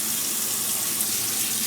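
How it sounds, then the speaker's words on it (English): Tap water runs steadily into a pot of vegetables for homemade low-fat dog food, a close, continuous hiss of filling water with no talk. "you can see the water's coming up"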